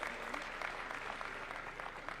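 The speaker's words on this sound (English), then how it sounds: "Give her a round of applause." Audience at a presidential event at KICC in Kenya applauding a community advocacy director, a steady wash of clapping at moderate level throughout, with a faint voice in the background.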